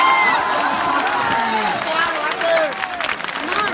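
Crowd at a Hindi poetry gathering in Mau clapping and cheering, a loud, busy mix of applause with shouts and raised voices running throughout.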